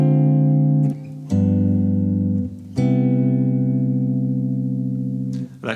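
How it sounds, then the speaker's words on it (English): A guitar plays a minor 2-5 chord progression, a few full sustained chords changing in sequence, the last ringing long and rich, close and clear with no one talking. "So minor 2-5 might sound something like this."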